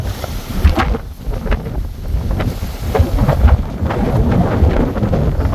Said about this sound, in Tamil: இந்த இடம் வந்து சந்து மாதிரி இருக்கு, அதனால பயங்கரமாக காற்று அடிக்குது.